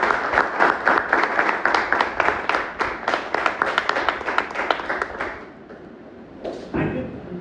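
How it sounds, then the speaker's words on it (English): An audience applauds at a Toastmasters club meeting, giving a close, steady burst of many hands clapping for about five seconds before it fades out, followed by a short thump and some faint room noise. "Please get a big round of applause."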